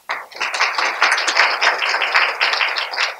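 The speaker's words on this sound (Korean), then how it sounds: "환영의 박수 부탁드립니다" An audience at a graduate school admissions information session applauds in welcome as the professors are introduced. Dense, sustained hand clapping rises quickly and holds steady at close range, with no talking over it.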